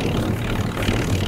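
An old tractor engine runs steadily close by during a plow day, a continuous low, rough drone with no pauses and no talking.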